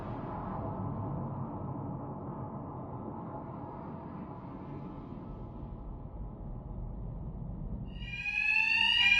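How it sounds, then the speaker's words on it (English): An alarm sounds steadily in Batman Arkham Knight, a continuous droning wash over dense background game noise, with a brighter, louder tonal wail in the final second. "Two-Face's thugs won't hear me over the alarm."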